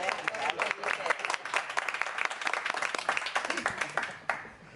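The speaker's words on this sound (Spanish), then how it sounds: "Un aplauso para" Audience applause for the actors at the 2024 Olite theatre festival press meeting: a dense, steady patter of many hands clapping together, fading out sharply near the end.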